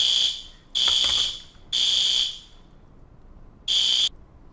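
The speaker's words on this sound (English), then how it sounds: "That's the fire alarm." A loud, shrill fire alarm sounds in repeated beeping blasts during a school fire drill, three close together then a pause before another, piercing and nearby with no talking.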